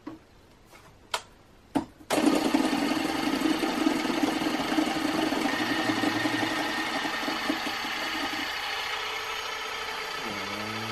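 After a few sharp clicks, an electric mixer starts up and whirs steadily while creaming gluten-, lactose- and yeast-free vanilla cookie ingredients, a close, even mechanical hum that shifts slightly in pitch near the end.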